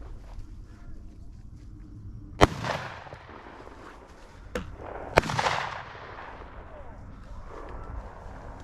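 Gunshots ring out during a boar and deer hunt outdoors, with three sharp reports spread across the stretch, the first loudest, each trailing into a brief echo over low background noise.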